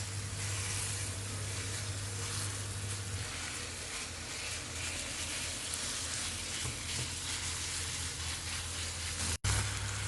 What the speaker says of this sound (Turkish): Ve kıymam yavaş yavaş kavrulmaya başladı.